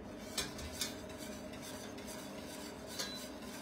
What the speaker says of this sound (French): Et maintenant, il y a juste à fouetter.